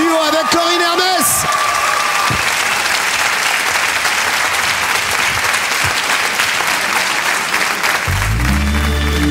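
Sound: applause for Julie Zenatti and Corinne Hermès

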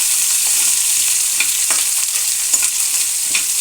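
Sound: frying onion and green chili pieces in tempering

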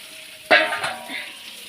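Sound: onions frying in a pan

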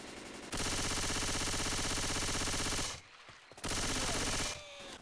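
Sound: gunfire shooting zombies in Left 4 Dead 2 video game

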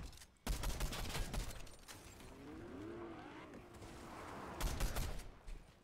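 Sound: gunfire in a video game (Warzone)

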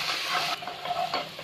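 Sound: ginger, garlic and green chilies frying in a pan

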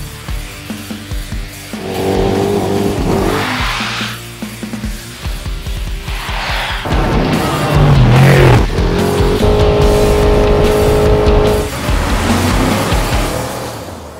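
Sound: off-road race truck driving

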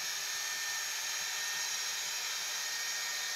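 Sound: sander with fleece belt polishing stainless steel handrail

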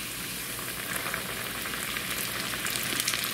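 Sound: carp pieces frying in hot oil

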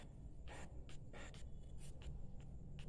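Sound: writing the answer

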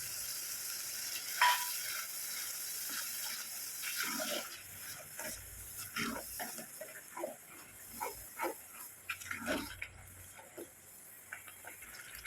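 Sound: tomato paste sizzling in oil for fish curry

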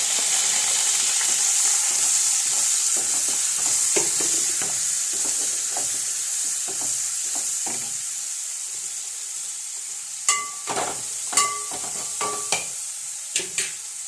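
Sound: onion frying with mustard seeds in a pan

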